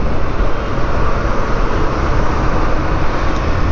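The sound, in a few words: train moving slowly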